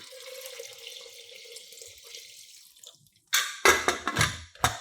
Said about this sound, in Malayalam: ഇതിലേക്ക് 5 കപ്പ് വെള്ളമാണ് ഒഴിക്കുന്നത്